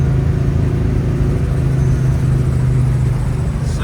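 A 1972 Oldsmobile Hurst with a 455 big-block V8 cruises on the highway at 75 mph. A steady low engine drone holds under a constant wash of road and wind noise, with no talking.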